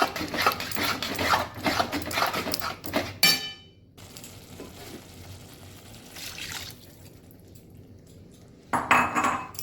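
Utensil scraping and clinking against a pan while curd masala is stirred for Rajasthani gatte ki sabzi, with a light watery trickle; bursts of clatter come and go, nearby and moderately loud, with quieter gaps between.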